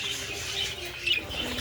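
Pet parakeets chirp in a home aviary, with short, bright tweets scattered over a steady soft background of distant bird chatter.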